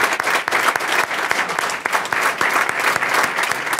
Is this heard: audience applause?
yes